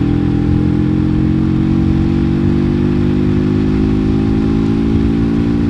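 A Suzuki GSX-R 125 motorcycle runs under way, its small single engine giving a loud, close, continuous buzzing drone with a steady pitch that slowly rises slightly, alone without any talk.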